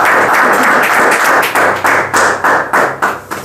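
Wedding guests at a civil marriage ceremony in Santa Rosa clap together right after the vows, a dense, loud burst of applause that thins into scattered separate claps toward the end.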